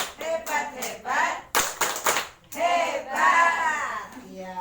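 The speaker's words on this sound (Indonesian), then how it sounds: "Yuk lagi tepuk hebat." A group at an Indonesian training session gives a presenter a rhythmic cheer, with bursts of short sharp claps alongside voices chanting in unison. The claps are close and loud.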